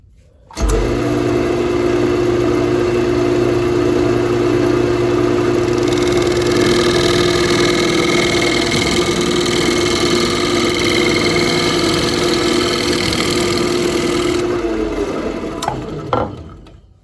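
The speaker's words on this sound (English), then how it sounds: "All right, I'm going to start sanding." A lathe motor hums steadily as spalted crab apple wood is sanded while it spins, a brighter hiss of abrasive rising through the middle stretch before the machine shuts off and coasts to a stop.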